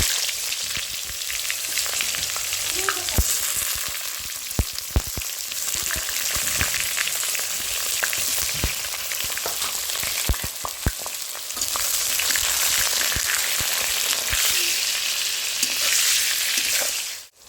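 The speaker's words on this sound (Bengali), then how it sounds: "ওই তেলের মধ্যে আমি বেগুনগুলি ভেজে নিব।" Eggplant pieces fry in hot oil for shukto, a continuous close crackling sizzle dotted with sharp pops and spatters that swells louder toward the end, no speech.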